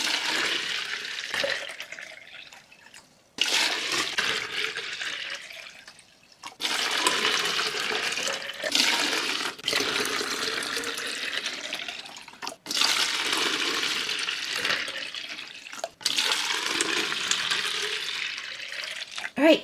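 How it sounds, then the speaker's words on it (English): Warm water runs from a tap into containers for water reveal dolls, coming in several separate bursts of splashing and pouring with short pauses between fills. "Let's fill each container up with water."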